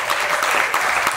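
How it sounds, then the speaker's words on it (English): Audience at a gathering applauds Dylan and his team, a short, continuous burst of many hands clapping close by. "Can we give him and his team a round of applause?"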